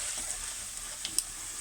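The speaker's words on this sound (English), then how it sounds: "Then we add our coriander seeds. Yep. Sizzle, sizzle, sizzle." Coriander seeds sizzle in a hot pan on full heat for a lentil curry, a soft steady hiss with a few faint pops near the end, heard alone.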